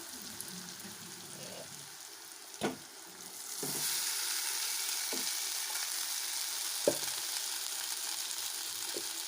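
Rice being stirred in a frying pan for Indian gooseberry (nellikai) rice: a steady sizzle under scattered scraping knocks of the spoon, close by, with no talking.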